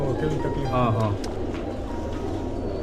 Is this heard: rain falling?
no